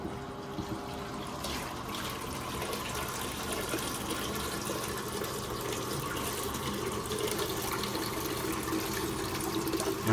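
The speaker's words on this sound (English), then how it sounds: "Dirty water dump." Dirty water from stripping acrylic wax off an engineered hardwood floor is poured out in a continuous, steady rush of gushing liquid that runs unbroken and fairly close for several seconds.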